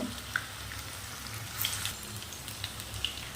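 Cauliflower florets fry in hot oil with a steady, close sizzle and scattered sharp pops and crackles throughout, with no talking.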